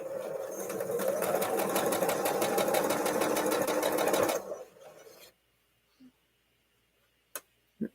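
A sewing machine stitches fabric in a steady rapid chatter for about four seconds, then slows and stops, leaving near silence broken by a few faint clicks.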